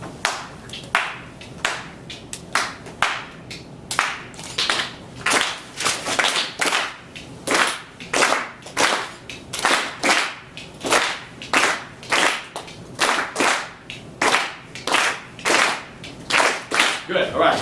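An audience claps a clave rhythm together, sharp hand claps in repeating syncopated groups that cycle steadily for over fifteen seconds, fairly close and loud with no voices.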